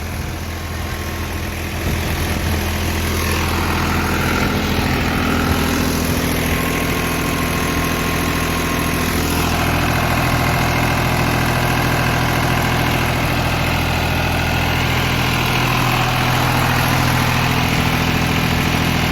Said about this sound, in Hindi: तेरह सौ रेस से चल रहा ट्रैक्टर जी।